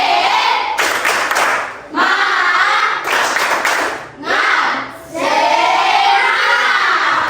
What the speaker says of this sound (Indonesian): Baik, anak-anak, kita tepuk semangat ya.